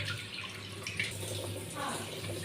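Water runs steadily from a tap into a glass in a home kitchen for a few seconds, close and continuous, with faint voice in the background.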